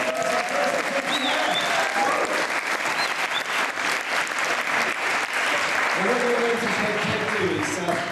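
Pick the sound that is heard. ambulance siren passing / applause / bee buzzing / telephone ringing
applause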